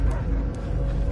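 A dog barks and yips in a brief, close, steady burst, sounding agitated over a low rumbling background.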